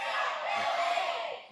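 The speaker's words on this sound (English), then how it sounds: "I think Richie Teaser is leading up a cheer here for the Pittsburgh Pit Bulls" A crowd in a sports arena cheers for the Pittsburgh Pit Bulls in a steady, loud roar of shouting voices that holds for the whole short moment and fades slightly at the end.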